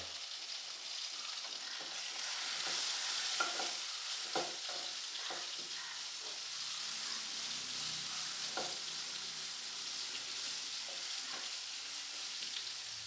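Ground spices with coriander powder, Kashmiri chili powder and garam masala sautéing in a pan for chicken tikka masala, a soft continuous sizzle with faint scraping stirs and occasional light clicks.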